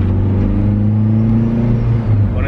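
A car engine hums loud and steady from inside the cabin as the vehicle takes a corner, with a continuous low drone and a slight shift in pitch toward the end, and no talking over it.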